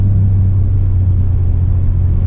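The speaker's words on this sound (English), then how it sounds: "I have missed driving this truck" A steady, deep engine rumble from a 1987 Chevrolet S10 pickup truck cruising on the street, droning continuously at a constant level with no talking.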